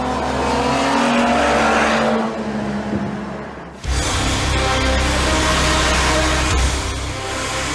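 A Peugeot 907 concept car drives past loudly with a strong, sustained engine roar, a brief dip and pause midway, then the engine surges again and keeps droning close by.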